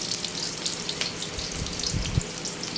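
Chayote pieces dropping into a hot frying pan set off a steady, close sizzle with brief watery crackles and a few soft thumps near the end, with no talking.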